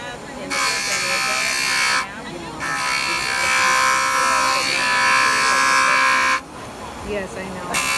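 A JOOLTOOL rotary finishing tool smooths a metal clay ring with a loud, steady high-pitched whir and grinding buzz, running in two long bursts with a short break; a person talks over it.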